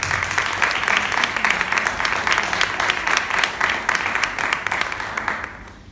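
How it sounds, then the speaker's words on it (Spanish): A crowd applauds steadily at a live award ceremony in the Córdoba legislature. The clapping is full and continuous for several seconds, then eases slightly near the end. "Un fuerte aplauso también para ustedes."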